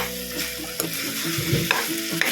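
Leftover pork humba reheating in a pan, with steady frying sizzle and the scrape of stirring throughout, a few sharper utensil clinks near the end.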